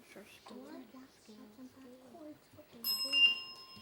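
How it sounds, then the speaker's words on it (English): A quiz show answer bell in a junior schools quiz competition rings out as a bright, sustained ring after a voice speaks, then stands alone and loud toward the end. "The bell came first."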